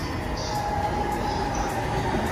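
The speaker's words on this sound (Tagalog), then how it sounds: "Ang dami numarating na tren, no?" A train pulls into a busy Tokyo station with a steady, fairly loud rumble of wheels and rails that runs throughout, faint high squeals rising above it now and then.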